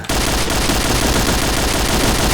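Rapid automatic gunfire in the shooter game Point Blank, a loud, continuous stream of dense shots close up that runs without a break from start to finish.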